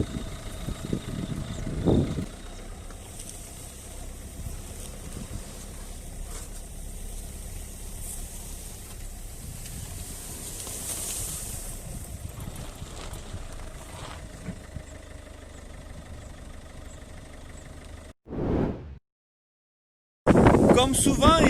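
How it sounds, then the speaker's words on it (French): A car drives along the Étang de Salses pond on a windy day, a low steady engine hum with wind noise, ending in a brief burst of rumble and an abrupt cut to silence. "Nous longeons l'étang de Sals en voiture afin de rejoindre le jardin."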